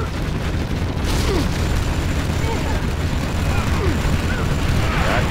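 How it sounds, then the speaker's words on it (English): Rocket attack explosions in the Command & Conquer Generals video game, a dense continuous rumble of booms and blasts under radio unit voice lines, steady and loud throughout. "Unloading rockets."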